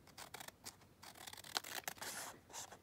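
Scissors snip through handmade washi tape in a quick series of close, crisp cuts and soft rustles, with no talking.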